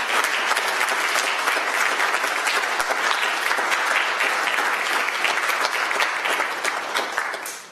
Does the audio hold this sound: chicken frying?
no